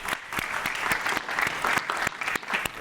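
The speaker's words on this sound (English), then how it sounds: "Let's give them a round of applause." A conference audience claps steadily and densely for nearly three seconds, close and continuous with no pauses.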